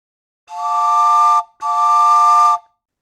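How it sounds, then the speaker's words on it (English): Two long, loud blasts of a train whistle, each lasting about a second with a brief gap between, a bright, steady chord with nothing else heard. "Okay, here comes the train."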